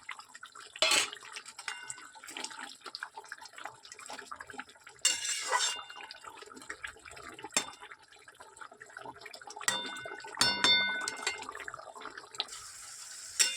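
Katla fish dropping into boiling kalia gravy in a pot, with scattered metallic clinks of utensils, soft splashes and bubbling liquid, several sharper clatters clustered near the end, no voices.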